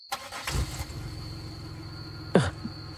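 A car's engine catches and starts up, a short burst of cranking followed by a steady hum, with a second louder surge near the end; no talking.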